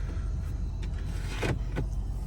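Electric sunroof blind in a 2011 Peugeot 508 SW 2.2 HDi GT automatic whirring briefly inside the cabin, two short motor bursts over a low, steady interior rumble.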